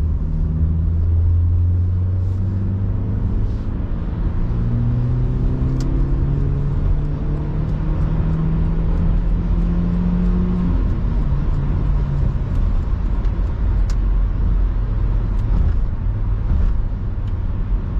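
A 1999 Opel Zafira with a 1.8L 16V engine pulls hard under acceleration, its steady engine drone rising in pitch through the gears, heard from inside the cabin with no talking.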